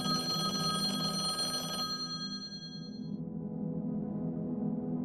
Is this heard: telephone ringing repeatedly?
yes